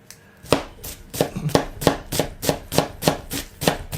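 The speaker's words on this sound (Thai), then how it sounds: "อันที่สามคือซอยละเอียด" A knife finely slices an onion quickly and steadily on a cutting board, about ten crisp, evenly spaced strikes in a row.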